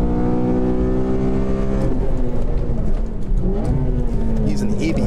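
The engine of a Honda Civic Si on a race track revs hard and loud, its pitch climbing, then dropping through a shift with rumbling road noise and brief clicks.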